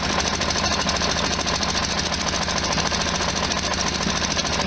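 A 1973 VW Super Beetle air-cooled engine idles with a leaking exhaust gasket, producing a loud, steady, rapid chugging and ticking rattle that continues unbroken throughout.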